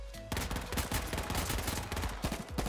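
Gunfire in the battle-royale game H1Z1 on PS4: a dense, rapid burst of automatic shots firing continuously from close by, loud and sustained for nearly the whole stretch.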